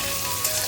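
Chopped onions for egg bhurji sizzle in a hot pan, a brief steady frying hiss with no voices.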